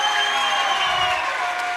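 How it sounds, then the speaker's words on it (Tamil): Audience applause at a live stage comedy drama performance, a steady dense wash of clapping hands that holds for the full stretch, sustained and fairly loud without any voices over it. "ஒரு கைதட்டு சூப்பர்யா"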